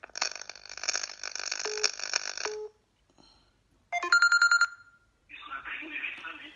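A telephone rings during a French-language radio call-in show. Several bright electronic ring bursts come close and clear, separated by brief silent gaps.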